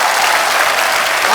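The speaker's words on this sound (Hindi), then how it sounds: "जोरदार ताली" Loud, dense applause from a comedy show studio audience, a steady wash of clapping that fills the whole moment without a break.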